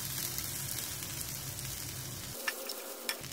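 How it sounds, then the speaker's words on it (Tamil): Garlic, shallots and coconut fry in hot oil with a steady close sizzle and crackle, then a few scraping stirs of a spoon as the hiss continues, no voices. "எண்ணெய் காஞ்சதும் இதில் பூண்டு, சின்ன வெங்காயம், கூடவே தேங்காய் இது எல்லாத்தையும் சேர்த்து நல்லா வறுத்துக்கலாம்"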